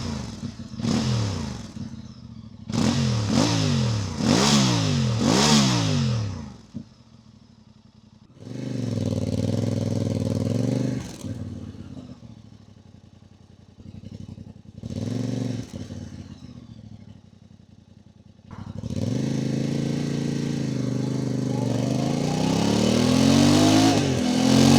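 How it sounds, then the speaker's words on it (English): Voge DS 800 X Rally motorcycle exhaust on the move: sharp repeated revs and gear-change surges, a quieter lull, then sustained loud acceleration, all close up with no talking. "So yeah, I do think that this exhaust sounds good."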